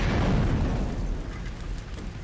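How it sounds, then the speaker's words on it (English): A fuel canister explodes and destroys a wooden cabin in a horror film scene. A loud, deep boom opens it, then a rumbling roar that slowly fades over about two seconds. "Chris shoots a fuel canister, triggering an explosion that destroys the entire cabin."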